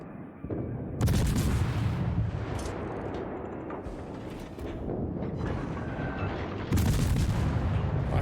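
Heavy naval gunfire booms in the World of Warships video game, with two loud broadband salvos and rumbling, crackling battle noise sustained between them.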